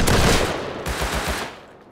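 Gunfire in the survival game Rust: a loud, dense burst is followed by a rapid string of four or five evenly spaced shots that fade quickly, with no one speaking.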